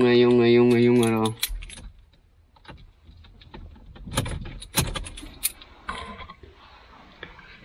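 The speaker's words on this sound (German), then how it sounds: "Ich kriege den Schlüssel eh nicht rein." Keys jangling while someone tries to unlock a door, a loud metallic rattle after a brief burst of voice at the start, then scattered clinks and jingles of varying strength.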